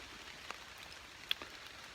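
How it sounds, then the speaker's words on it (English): Rainwater drips from wet leaves in the woods during a light drizzle, a few sparse, soft taps and one sharper drop over a quiet, steady hiss of rain. "It's still drizzling, and when the wind blows, the rain's falling out of the trees, off the leaves."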